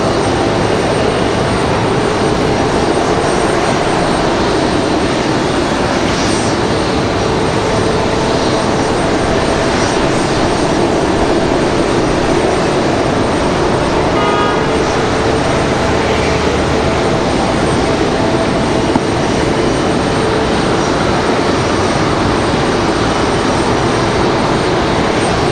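A Boeing 777 airliner with no passengers aboard taxis at Raleigh-Durham International Airport, its engines giving a loud, steady, unbroken roar that holds for the whole stretch with no voices over it.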